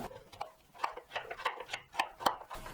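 A knife chops pumpkin into small pieces on a cutting board: sharp, evenly spaced cuts, close and fairly quiet.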